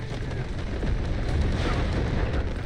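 Smoke barrage fired during a last-ditch defense in a strategy video game: a dense, continuous rumbling burst of explosions and hissing smoke that stays loud and steady.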